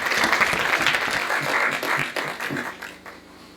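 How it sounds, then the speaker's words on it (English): An audience at a training program's opening ceremony claps loudly for a woman coming on stage, a steady burst of many hands that tapers off over a few seconds. "A huge round of applause for our lady."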